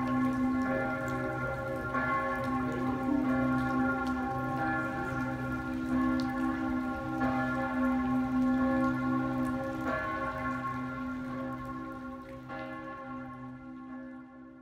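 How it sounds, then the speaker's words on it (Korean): Church bells of the Grossmünster in Zurich ring continuously with a rich, sustained tonal hum and repeated strikes, steady and fairly loud before slowly fading toward the end. "그로스민스터의 종이 울립니다."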